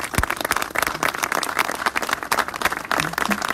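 Crowd at a national metalworkers' strike rally applauding the Whirlpool workers' struggle, a dense, loud and continuous burst of clapping heard close by.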